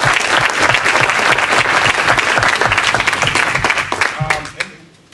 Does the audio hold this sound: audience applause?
yes